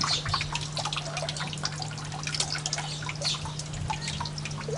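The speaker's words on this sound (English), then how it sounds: "let the water run off" Water runs and drips from freshly couched paper pulp in a papermaking mould lifted from a vat, a steady close trickle with scattered drops and a low steady hum beneath.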